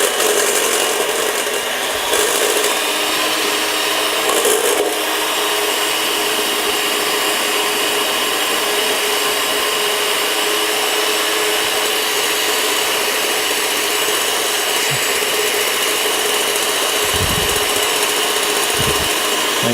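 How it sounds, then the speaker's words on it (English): An electric mixer whisks egg whites into meringue in a steady, continuous mechanical whir with a few brief knocks near the end, close and fairly loud, with nobody speaking. "It's fantastic, this mixer."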